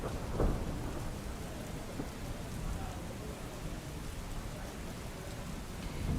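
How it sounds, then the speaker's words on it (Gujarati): Heavy rain pours down in Surat during a storm, a dense, steady downpour hissing on surfaces, with low thunder rumbling beneath it. "તો સુરતમાં ભારે વરસાદ વરસો છે"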